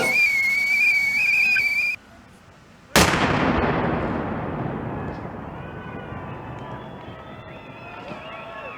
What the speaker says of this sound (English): like a steam pot. It starts to whistle